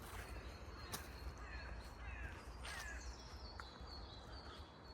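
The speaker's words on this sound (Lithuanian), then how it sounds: "Kur mano varnos?" Crows cawing outdoors, several harsh calls scattered across the stretch at a moderate distance over a constant rushing background, with no talking.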